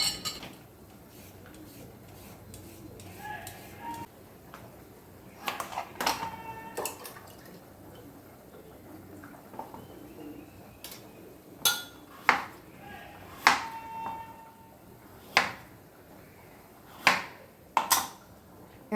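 A knife chops a carrot into small pieces on a cutting board in a home kitchen, sounding as sharp, fairly close taps that come in short bursts with gaps between them.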